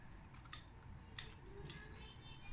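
Scissors trimming quilt fabric down to a quarter-inch seam allowance give three crisp, close snips spaced about half a second apart over quiet room tone.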